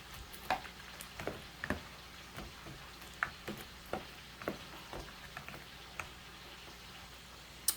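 Melted sauce stirred into fried chicken wings, with soft irregular ticks and light sticky knocks of a utensil against the pan over a quiet low hiss, close and faint, with no talking.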